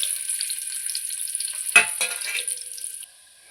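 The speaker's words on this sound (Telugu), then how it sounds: "ఆనియన్స్ వేయాలి." Onions drop into hot oil for a meal maker curry, a bright crackling sizzle with a sharp burst partway through before the frying cuts off near the end.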